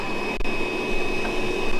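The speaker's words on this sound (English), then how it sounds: "is get the wet and dry vacuum cleaner, and I'm sucking the water out the pipe" A wet and dry vacuum cleaner sucks leaking water out of a cut pipe inside a motorhome cupboard, a loud, steady close-up whine and roar with a brief gurgling dip near the start.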